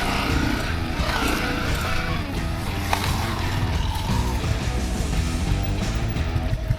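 A Yamaha WR 155R motorcycle grinds over rough terrain on a Himalayan route to Suryachaur, its engine drone continuous and loud alongside rattling and bumping from the rugged ground, with no talk.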